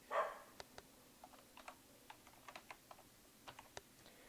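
Keys on a computer keyboard click in a quick, uneven run of single taps and short bursts, faint and close-by in a quiet room, with a brief soft yelp at the very start.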